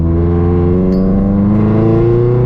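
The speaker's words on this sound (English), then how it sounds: "I need to fix the sound of the car. Like you'll hear it right now. It is mighty loud." A loud, steady Honda K-series engine drone with a deep, even hum that holds constant throughout, heard close up from inside the car with the windows closed.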